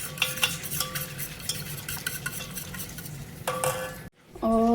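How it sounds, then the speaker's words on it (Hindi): Millet flour batter being stirred and mixed in a bowl, a run of close scraping and clinking utensil strokes, followed by a short pause and a faint tonal sound at the end. "अच्छे से मिक्स करेंगे।"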